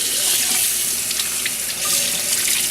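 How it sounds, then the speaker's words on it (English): Cold tap water runs steadily from a faucet over a turkey, a full, hissing splash that stays close and constant throughout. "we're gonna soak it down with cold water real quick"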